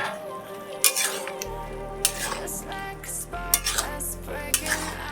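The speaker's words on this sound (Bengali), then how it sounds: "এবার ঢাকা তুলে দেখব।" A lid lifted off a cooking pot of drumstick and bitter gourd curry, with repeated sharp metallic clinks and scrapes of lid and utensils against the pot, close and clear over a low hum.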